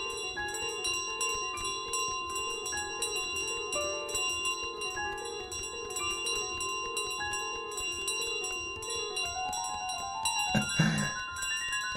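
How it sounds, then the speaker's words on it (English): Bells ringing in Untitled Goose Game, a steady repeating pattern of bright metallic tones chiming in layered rhythm, moderately loud, with a louder jangling burst near the end. "Is my starting area full of bells? Is that what that was?"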